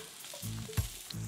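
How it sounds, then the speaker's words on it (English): Mushrooms dropped into a hot pan with olive oil sizzle and fry while being tossed, a soft, close hiss with faint stirring and no talking. "We'll chuck those mushrooms in and you get a good sizzle going on straight away"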